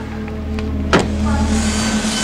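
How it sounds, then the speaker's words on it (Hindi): A diesel car engine idles in a steady, low, humming drone with a faint mechanical whir, broken midway by a brief swooshing click before settling back into the even rumble. "तू गाड़ी बंद कर, डीजल बर्बाद हो रहा है।"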